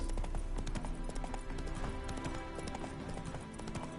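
Horse hooves clip-clop at a steady walking pace in Witcher 3, a rhythmic clatter of a mount moving over ground with faint ambient background and no talking.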